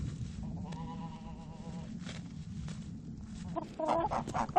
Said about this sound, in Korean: 다음날 닭들의 식사 장소에 아기 염소 보기가 왔다.